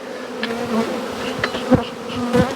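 Honey bees on hive frames give a dense, continuous buzzing drone with individual bees passing close, loud and alone.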